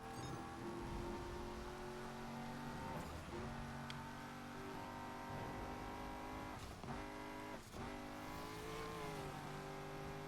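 A car called the Hammer in the racing video game Need for Speed Unbound drives with a steady, loud engine drone that holds constant throughout, with brief shifts in pitch as it changes gear or speed.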